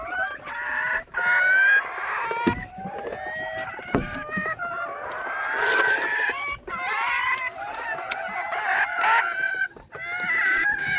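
Chickens in a Kenyan village cluck and squawk nearby almost continuously, with repeated rooster crowing rising above the busy flock noise, and a voice briefly joins in.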